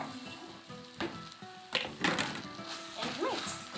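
Capsicum hits hot pork in a wet fry with a sudden bright sizzle and crackling, joined by a few scraping stirs and utensil knocks, with a voice speaking over it.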